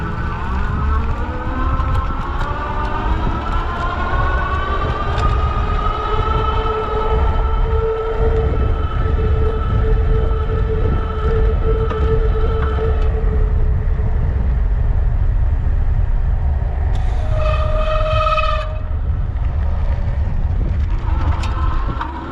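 Eunorau Fat MN folding electric fat tire mountain bike, 500 W, ridden at pedal assist level 5: a rising motor whine climbs in pitch over steady wind and tire rumble, then a brief tonal squeal near the end.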